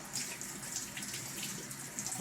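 A disc golf disc is rinsed under a running tap, a steady close splash of flowing water filling the whole short stretch with no talk.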